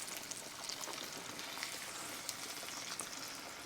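Floured ribs frying in a pan of oil, a soft, steady crackling sizzle with fine popping, fairly quiet and unbroken, no voices.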